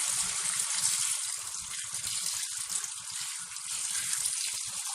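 Tap water runs steadily and loudly into a sink as rice is washed for stuffed vine leaf filling, a continuous broadband gush alone without talk.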